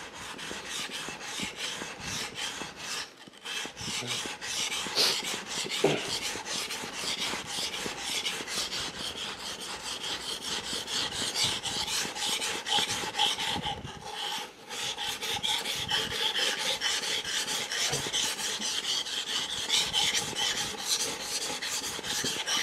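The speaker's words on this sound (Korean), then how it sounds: "숫돌에다가 밀착한 다음에 갈면은 됩니다" A kitchen knife is ground against a wet whetstone in steady back-and-forth rasping strokes, close and continuous, with brief pauses between passes.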